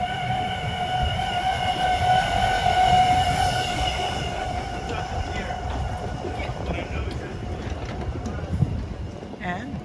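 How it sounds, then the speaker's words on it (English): A boardwalk tram car rolls past at night in Wildwood with a steady rumbling, rattling drone and a sustained tonal hum, while a person talks over it and crowd bustle fills the background. "And here is Sunny, the tram car."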